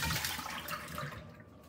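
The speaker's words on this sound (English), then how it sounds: "after you've shredded your taters, give them a nice rinse in some cold water" Cold water runs and swishes while shredded potatoes are rinsed, a steady close rushing sound that tapers off over a couple of seconds with no talking.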